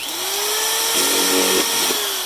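A power drill boring holes into plastic bottles for a wicking garden, a loud steady motor whine that dips and strains midway as the bit bites, alone without speech.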